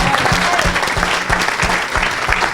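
A church congregation applauds to acclaim the Lord during a worship service, with loud rhythmic clapping in a steady beat from a crowd.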